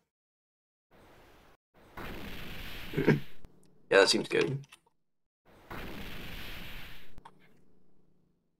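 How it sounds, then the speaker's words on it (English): Short bursts of noise serve as explosion effects in a game built with Ruby, several separate hits with a sharper burst in the middle, spoken words between them, played against near silence. "Then when you do hit, it makes the explosion noise."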